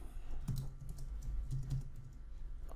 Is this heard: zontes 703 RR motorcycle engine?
no